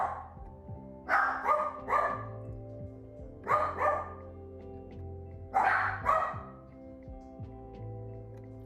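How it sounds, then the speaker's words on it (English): Three bursts of dog barking, each a quick pair or triple of sharp barks, spaced a couple of seconds apart over a steady low hum. "What are you barking at?"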